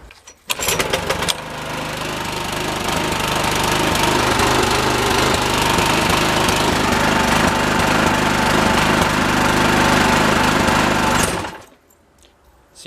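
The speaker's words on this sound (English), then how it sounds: "So this is my mower, the old one." An old lawn mower engine, suspected of running on bad gas and fitted with no blade, runs steadily and loud for about ten seconds after a brief start-up sputter, then cuts off into near silence.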